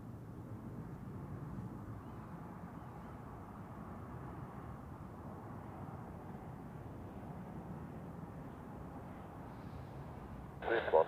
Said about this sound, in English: V1 and rotate. Here we go. Have a great flight across the pond.